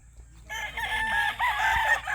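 A rooster crows loudly and close by, one long drawn-out call with a wavering, strained tone, set against a low background rumble.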